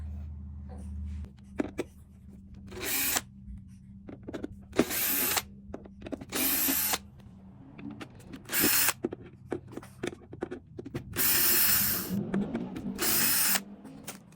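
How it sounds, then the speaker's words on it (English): Screws being backed out of the metal platform of a SNOO baby bassinet with a power drill, several loud whirring bursts of a few seconds each separated by quieter pauses and faint handling clicks, close up. "We can now remove the 6 screws holding down the metal platform."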